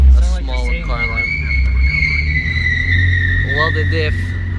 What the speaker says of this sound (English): Welded diff. Hella loud.